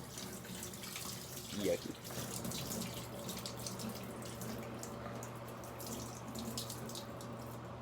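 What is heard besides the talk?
dirty water poured out of a carpet extractor tank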